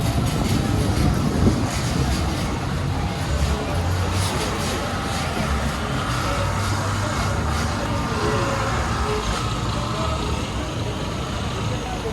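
A Medellín metro train rumbles overhead on elevated tracks in the city centre, a steady, dense low roar that fills the whole stretch amid street traffic noise, with faint voices underneath.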